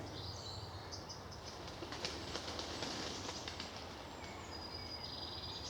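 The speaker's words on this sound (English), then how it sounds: "The old song thrush is busy in this wood." A song thrush sings repeated bright phrases in a wood near Markyate on a May afternoon, clear but modest in level over a soft, constant background rumble.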